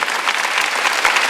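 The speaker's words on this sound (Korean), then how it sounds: "박수 세게 쳐봐요" A church congregation at a Korean Sunday worship service applauds loudly, a dense, steady wash of many hands clapping close by throughout.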